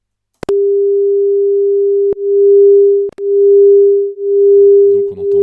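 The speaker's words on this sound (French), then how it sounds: "on entend bien cette alternance entre son fort, son faible, son fort, son faible" Two pure sine tones at 400 Hz and 401 Hz play together after a single tone, producing slow beats: a loud steady hum that then swells and fades about once per second.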